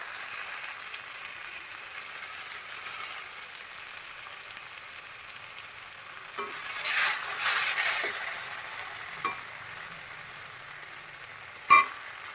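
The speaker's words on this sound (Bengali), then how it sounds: "আর একটু আমি ভালো করে কষিয়ে নেবো" Taro leaves cooking down in a pan, a soft steady sizzle and hiss with a few clinks and scrapes of stirring spread across it, close and fairly quiet.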